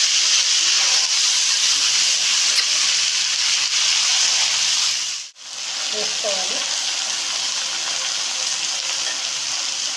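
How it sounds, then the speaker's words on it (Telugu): Mint leaves hitting hot oil in a pan for pudina pachadi, with a loud, continuous sizzle and hiss that dips briefly into near silence midway before resuming at full strength. "నూనె వేడైంది. ఇప్పుడు మనం పుదీనా వేసుకోవాలి."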